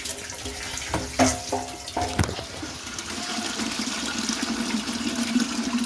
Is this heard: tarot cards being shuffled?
no